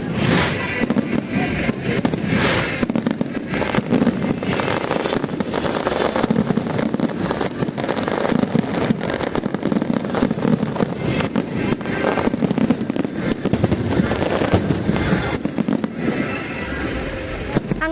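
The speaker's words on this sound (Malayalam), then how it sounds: "ഫയർ വർക്ക്സ് കാണാനാണ് അടുത്തത് ഞങ്ങൾ പോയത്" Fireworks at the Sheikh Zayed Festival in Abu Dhabi fire continuously, a dense, loud stream of booms and crackling bursts with wind rumble and crowd noise, heard from the spectator area at night.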